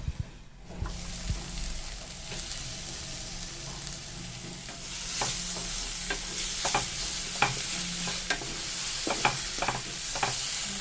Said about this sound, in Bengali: এরপর আমি কড়াইয়ে আবারও একটু সর্ষের তেল দিয়ে বেগুনগুলো ভেজে নেব।